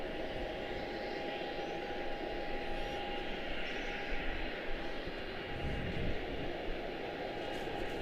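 An American Airlines Boeing 777-200ER bound for Rome runs at Charlotte Douglas International, a steady, fairly faint jet engine drone with a thin whining tone, distant and unbroken throughout.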